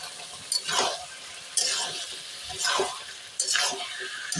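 Cucumbers stir-fried in a pan for a shrimp curry: a gentle sizzle broken by four evenly spaced sweeping strokes of the spatula, close and moderately loud.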